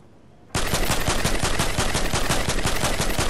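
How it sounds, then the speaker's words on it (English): Sustained rapid automatic gunfire in Fortnite, starting abruptly after a brief quiet moment and continuing as a loud, dense, evenly spaced stream of shots. "I can't hit these shots."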